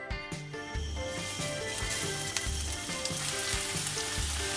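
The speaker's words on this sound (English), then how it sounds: "in about maybe 2 tablespoons of oil and just fry them until they're nice and golden brown on the outside" Meatballs frying in a couple of tablespoons of oil over medium-high heat, a steady close crackling sizzle that holds throughout, with some faint background music and no talking.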